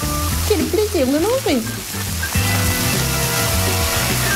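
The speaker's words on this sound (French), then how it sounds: "Ce n'est pas seulement vraiment très bruyant, mais c'est vraiment, vraiment grésillant." Food sizzles and crackles loudly and continuously in a pan while a person speaks over it.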